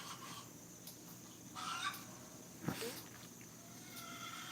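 Poultry kept shut in for two days make faint, distant clucks and short calls, scattered in brief bursts over a quiet background with no talk.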